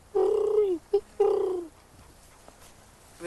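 A man imitates a great horned owl call with deep, hollow hoots: a long drawn note, a short clipped one, then another long note, close and clear, with quiet room tone after.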